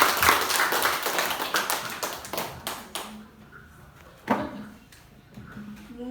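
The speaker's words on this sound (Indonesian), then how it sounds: "mari kita tepuk tangan" A group of teachers claps hands indoors, a brisk burst of overlapping claps that thins out after a few seconds into scattered taps, with a quiet voice and a few louder isolated claps near the end.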